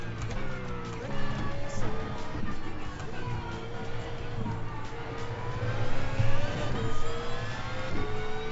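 A race car on the Mid Ohio track with its engine droning and revving through gear changes, steady and prominent with rising tones as the throttle opens.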